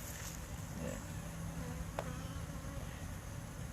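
Honey bees buzz in a dense, continuous drone around an open hive, close and steady, with a few individual bees passing near.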